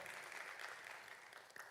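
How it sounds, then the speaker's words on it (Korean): A church congregation gives a soft, distant round of applause during a young people's worship service, a steady faint patter of clapping with no voices over it. "하나님께 영광의 박수 올려드리겠습니다"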